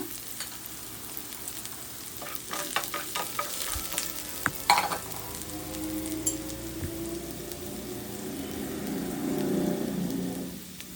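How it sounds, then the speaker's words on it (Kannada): Onions frying in a pan until golden brown for a broccoli and mixed vegetable stir fry, a steady sizzle with clattering spatula stirs and a few sharp knocks, the hiss swelling louder toward the end. "ಇದು ಗೋಲ್ಡನ್ ಬ್ರೌನ್ ಬರೋವರೆಗೂ ಸ್ವಲ್ಪ ಫ್ರೈ ಮಾಡ್ಕೊಳ್ಳಿ ಈರುಳ್ಳಿನ"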